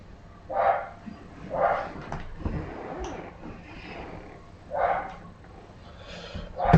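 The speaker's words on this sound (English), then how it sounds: "Shut up, dog." A dog barks repeatedly at a board game table during a live three-player session, several loud separate barks spaced about a second apart, with a brief voice between them.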